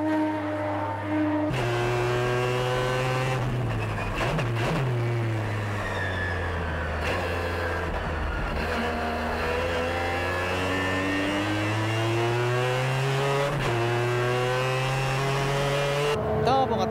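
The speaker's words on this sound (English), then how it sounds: "The 20B 3-rotor engine roars as Tsuchiya goes out for the time attack." Mazda RX-7 FD3S with a 20B three-rotor engine roars steadily on track during a time attack, its harmonic engine note rising and falling as it accelerates and shifts, loud and close throughout.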